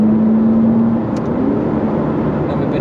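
A Ferrari F8 accelerating hard through an overtake, heard from inside as a steady, loud engine drone with a rising tone, continuous over about three seconds with no talk.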